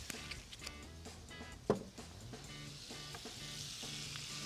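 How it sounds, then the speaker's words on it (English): A splash of white wine hisses quietly in a pan of sausage for an agnolotti filling, a faint, even sizzle with one sharp knock partway through. "So I put in a little bit of white wine."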